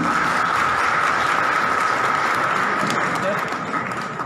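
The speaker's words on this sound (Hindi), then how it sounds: "जोरदार तालियों के साथ" Loud, sustained applause from a large crowd at a public government event in Madhya Pradesh, a dense even roar of clapping lasting the whole stretch.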